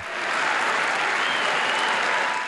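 A stormy ovation fills the UN General Assembly hall as delegates greet the Palestinian Authority leader, some standing; dense clapping swells slightly and holds steady throughout.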